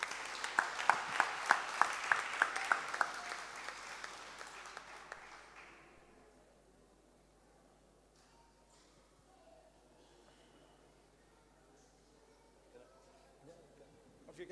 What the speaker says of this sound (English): let's give to Advocate Rod Solomon a big hand of applause